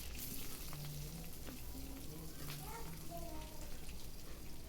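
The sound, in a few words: mustard seeds, cumin, curry leaves sizzling in hot oil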